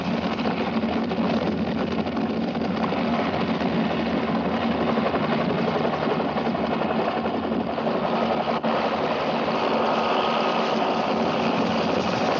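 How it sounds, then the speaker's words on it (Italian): A helicopter flies in 1960s Africa, a continuous loud droning engine and rotor whir with a fast pulsing flutter, steady and close throughout with no talk. "Dove non si arriva con la jeep, si va con l'elicottero."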